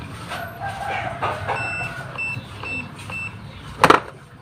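A multimeter gives short, high-pitched beeps in a quick intermittent series while a Honda Beat FI scooter's ignition fault is tested, with a brief louder clatter near the end.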